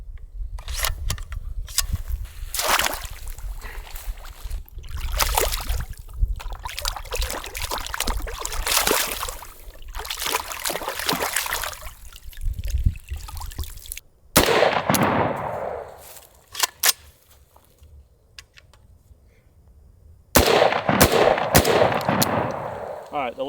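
Budget AR10 rifle fired outdoors during a torture test, sharp loud shots in bursts and single cracks with pauses, mechanical clatter between, and bits of talk at moments.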